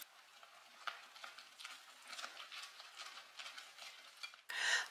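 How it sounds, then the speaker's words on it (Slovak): A whisk mixes warmed gelatin into a cake filling, giving a soft, steady run of faint swishing and tapping in a bowl, quiet and close, ending in a short louder rustle, with no voices. "Želatínu s trochou plnky, zohriatú na 46 stupňov Celzia, vylejeme do plnky a metličkou premiešame."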